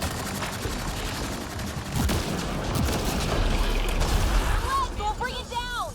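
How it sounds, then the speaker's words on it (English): Rapid gunfire in Mass Effect Andromeda, bursts of automatic shots crackling over a rumbling battle din, with other game effects and whooshing sounds toward the end. "Who's shooting me?"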